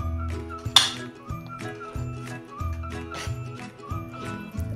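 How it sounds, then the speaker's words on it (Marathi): A spoon clinks repeatedly against a glass or metal vessel while lemon juice is stirred into homemade orange jam, a series of sharp, close taps and scrapes in a steady rhythm. "हे आता एकसारखं चांगलं मिसळून घेऊया।"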